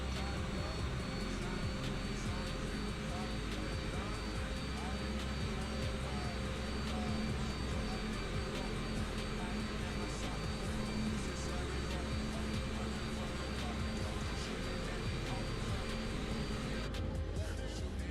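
Jet airliner engines spool up for takeoff in Microsoft Flight Simulator 2020, a loud, continuous roar that holds steady for about eighteen seconds with a broad rushing hiss on top.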